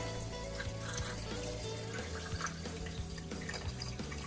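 Water kefir pours and trickles steadily for a few seconds, with a low tonal hum running underneath.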